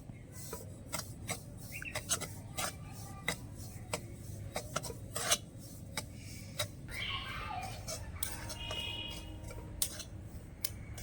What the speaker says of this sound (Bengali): এবার শুকনো খোলায় ভালো করে একটু ভেজে নেবো